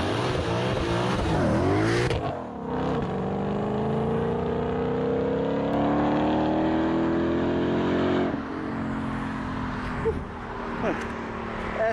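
A modified 2020 Corvette C8 pulls hard with a passenger on board, its engine note climbing steadily through the revs in two long, loud surges separated by a quick shift dip.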